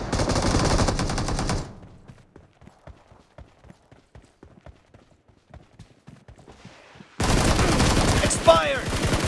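Gunfire in the BGMI mobile battle game: dense loud bursts open the clip, then a quieter run of evenly spaced single shots, before another loud stretch of rapid fire with game effects.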